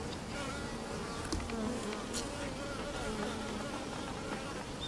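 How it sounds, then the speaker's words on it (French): Steady, dense buzzing of many honeybees, a continuous drone of beating wings with faint scattered clicks, at moderate volume throughout. "On pense qu'elles communiquent entre elles en utilisant le son produit par les vibrations de leurs ailes."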